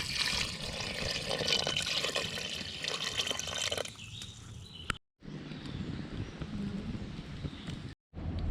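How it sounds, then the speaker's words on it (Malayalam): Water is poured into a pot of Kerala-style crab curry on the stove, giving a continuous splashing, trickling flow with a brief pause, heard up close and fairly quiet. "ഇത് മൂടുന്ന രീതിയിൽ നമുക്ക് വെള്ളം ഒഴിച്ച് കൊടുക്കാം"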